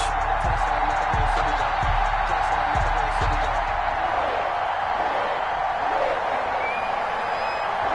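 Stadium crowd noise at an EA Sports NFL video game matchup between the Cleveland Browns and Cincinnati Bengals, a steady broad roar of a large crowd with low thumps early on, continuous through the whole stretch.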